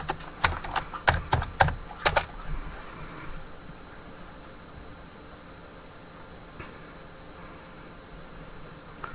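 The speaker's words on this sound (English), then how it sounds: "So now what I'm going to do is put my password in to actually get me to my main switchboard." A computer keyboard being tapped as a password is entered: a quick burst of about a dozen close key clicks over two seconds, followed by quiet room noise.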